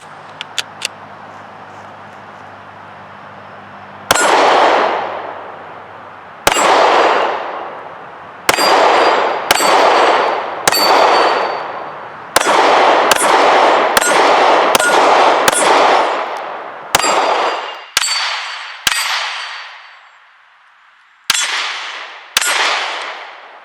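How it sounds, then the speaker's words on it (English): A new HK VP9 pistol fires at steel targets about 15 yards out outdoors, with roughly fifteen sharp metallic clangs ringing out in irregular bursts, each shot and its steel ping loud and close with short decaying tails, and no talking. "I've got a couple steel targets set up about 15 yards out, so let's see how this thing runs. This will be my first rounds through this gun."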